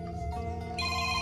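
A telephone ringtone plays steadily and fairly loud for just over a second, a sustained electronic melodic ring with no voices, during a comedic Sundanese short film.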